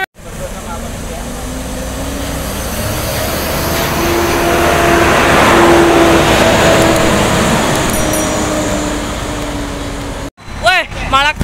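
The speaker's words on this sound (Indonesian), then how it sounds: "Awas mobil" A car passes close by on a road, its noise swelling to a loud peak mid-way and fading again, heard from beside a bus during a road trip, with voices briefly heard at the end.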